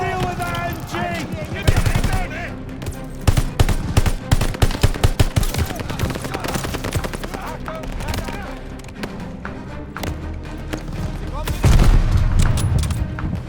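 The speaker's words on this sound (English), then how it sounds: "Need to deal with that MG!" German machine gun fire in Call of Duty: Vanguard's Merville mission, loud, dense bursts of rapid shots and booms layered with game music and shouted voices.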